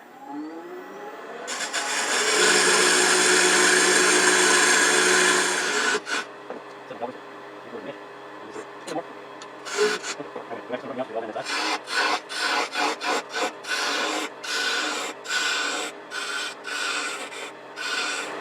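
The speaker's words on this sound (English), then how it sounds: "we're going to start with just using a beading and parting tool to size it" A beading and parting tool cuts into a wooden spindle on a lathe while sizing a snowman ornament blank: a loud, sustained scraping for several seconds, then a run of shorter, rhythmic cutting bursts.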